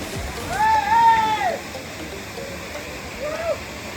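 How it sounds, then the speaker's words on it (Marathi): A waterfall roars close by, a constant broadband wash of rushing water, with a voice briefly rising over it near the start. "एकदम धबधब्याच्या आता आपण जवळ आहोत"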